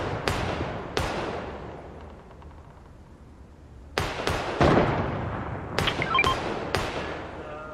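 Heavy sniper rifle shots in a shooter video game, a series of loud, sharp booms with long echoing tails, some in quick pairs, scattered across a few seconds.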